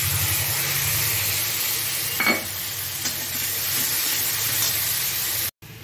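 Cumin, turmeric and chili spice paste dropped into hot oil for a Bengali vegetable fish curry, giving a steady loud sizzle and spatter that holds throughout, with a brief clink partway, ending in a short cut.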